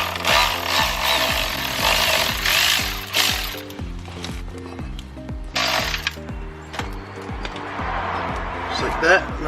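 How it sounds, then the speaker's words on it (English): A power tool whirs and rattles in short repeated bursts while bolts holding the intercooler of a BMW E92 335i are taken out, with the grinding bursts close and fairly loud. "Now I'm gonna take the two bolts out that hold the intercooler up."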